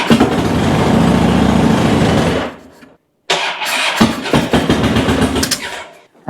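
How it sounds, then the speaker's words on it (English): A Harley Davidson Dyna motorcycle engine is cranked over with the fuel line disconnected, giving a loud, steady churning run of about two and a half seconds. After a short silence, a second cranking burst follows. "I've got to crank the bike with this disconnected to get all the pressure out of the"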